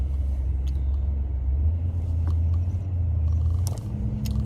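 Road traffic passing outdoors, heard as a steady low rumble with a few brief higher clatters and hisses from vehicles going by.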